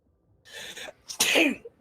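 A single close sneeze comes with a short inhaled build-up followed by a sharp, explosive burst, then quiet.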